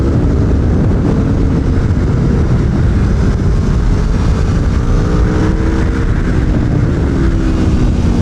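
An Aprilia Tuono V4 1100 Factory motorcycle roars steadily at high revs on a race track during a track day, a loud continuous engine drone with wind rush and no break throughout.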